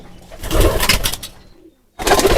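Pigeons coo close by, their low soft calls mixed with bursts of rustling, fluttering noise and a brief quiet gap.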